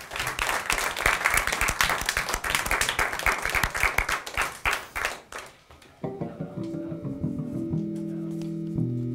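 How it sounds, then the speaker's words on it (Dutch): Audience applause for the bassist Zen, about to play Beatles and Jaco Pastorius pieces, a dense burst of many clapping hands lasting about five seconds before fading, then quiet bass-heavy instrumental tones begin. "mag ik een applaus voor Zen"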